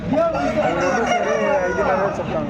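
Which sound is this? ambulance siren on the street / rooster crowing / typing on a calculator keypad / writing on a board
rooster crowing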